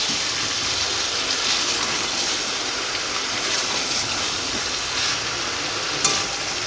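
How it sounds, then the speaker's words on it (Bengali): Chicken curry is stir-fried in a pan, a loud continuous sizzle with occasional soft clinks of the spoon, steady throughout with no talk. "কষাতে কষাতে যখন মাংস থেকে তেল বেরিয়ে আসবে তখন বুঝে যাবে যে চিকেন কষানো হয়ে গেছে"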